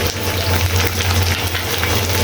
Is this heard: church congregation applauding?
no